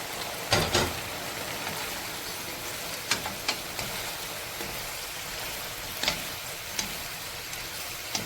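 Fried chicken strips go into a hot pan and sizzle steadily while being stirred, with a few sharp scraping clacks of a utensil against the pan.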